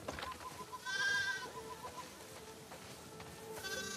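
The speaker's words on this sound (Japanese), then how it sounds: "羊ども、納屋で晩ご飯が待ってるぞ。" Sheep bleat in a farm setting within The Last of Us Part II, a few quavering calls a short way off over quiet ambient game background, with no talk.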